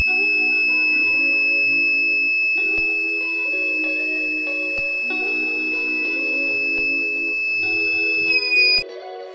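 A fire sensor buzzer alarm on an Arduino-based smart stick for blind people sounds loud, steady electronic tones that shift pitch in stepped patterns, with a few sharp clicks and no speech.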